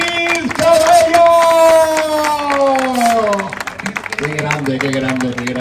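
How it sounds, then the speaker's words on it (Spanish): A crowd at the Trabuco Trail 2025 race claps and cheers for a trail runner, with a loud voice calling out over the noise before the cheering thins out. "Os pido un fuertísimo aplauso para Raúl Ortiz Cabello."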